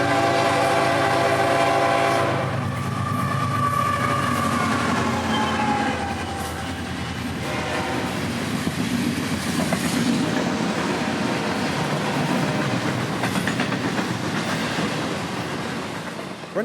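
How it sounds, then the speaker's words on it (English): Florida East Coast Railway freight train 204 sounds a loud horn on approach near Bayard, then rolls past with a steady rumble and clatter of wagons that continues to the end. "mainline signal at Bayard swings to a green as FEC train 204 now approaches"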